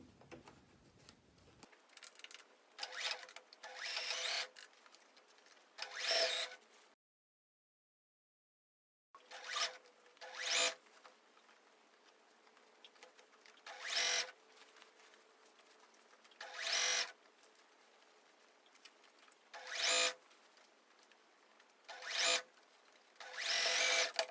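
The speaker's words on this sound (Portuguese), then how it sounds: "vou costurando e ir girando a peça" A sewing machine stitching the lining of a teddy coat runs in repeated short bursts of mechanical whirring, close and clear, separated by quiet pauses while the fabric is turned.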